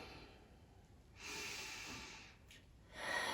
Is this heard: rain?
no